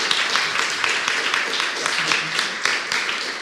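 Audience at an innovation-in-health awards ceremony applauding prize winners, a dense steady wash of many hands clapping throughout, fairly loud and close with no break.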